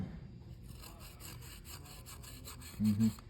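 Gritty rhythmic scraping of sand and rust inside a 1948 Century Sea Maid boat carburetor repeats in quick strokes, grains rattling against metal, with a low thump near the end.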